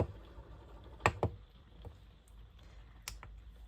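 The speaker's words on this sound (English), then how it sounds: "So you can turn it on and off by clicking the button." Buttons on the control panel of a 2025 Adria Matrix Supreme 670 DL motorhome give a few sharp, quiet clicks, two close together and another after a pause, against a hushed interior.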